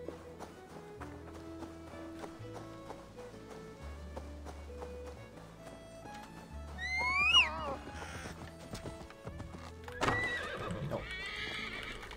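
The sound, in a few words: horse neighing and hooves in Assassin's Creed Valhalla video game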